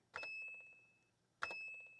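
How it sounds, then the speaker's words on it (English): A Pravetz 8D computer, a clone of the Oric Atmos, sounds two separate electronic beeps. Each starts sharply, then decays and fades away, and quiet falls between them. "The beep sound like fades away."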